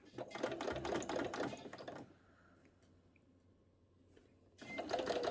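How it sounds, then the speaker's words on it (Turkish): A sewing machine stitching a fabric table runner, running in a rapid rattling burst, pausing briefly in near quiet, then starting again close and loud. "İlk sıramı dışta kalanları, dışta kalan beyaz bölümü dikeceğim. Sonra içten tekrar bir dikiş daha yapacağım."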